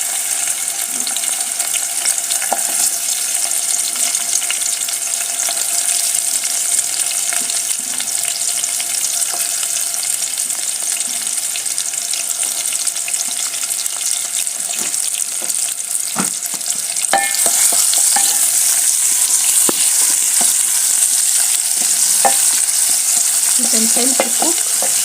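Onions frying in a pot while tripe is being cooked, giving a steady, close sizzle with occasional stirring scrapes, growing slightly louder partway through.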